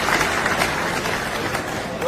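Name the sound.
applause welcoming the speaker at a gathering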